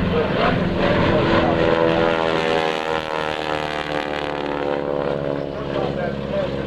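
A loud airshow plane with a 450 horsepower R985 radial engine roars overhead, its propeller drone steady and sweeping in pitch as it passes, with crowd or announcer voices faintly underneath.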